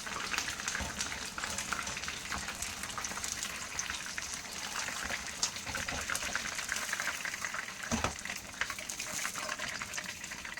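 Chicken pieces deep-frying in hot oil for homemade fried chicken, a dense, continuous crackling sizzle that stays fairly even, with a louder splash or clatter near the end.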